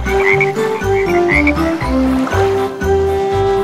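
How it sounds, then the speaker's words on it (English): Cartoon frogs croak in a steady, bouncy rhythm within a children's nursery song, the loud, repeated croaks set in time with the melody and no voices heard. "little speckled frogs sat on a speckled log, eating some most delicious bugs"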